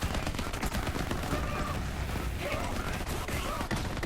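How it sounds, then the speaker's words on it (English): Dense, continuous gunfire in the Borderlands 3 shooter from a Rebound weapon firing ricocheting bullets into many enemies, a steady loud barrage of rapid shots with no pauses. "The bullets are ricocheting and hitting so many different enemies."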